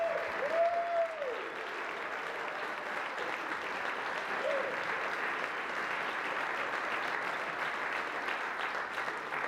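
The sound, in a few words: audience applause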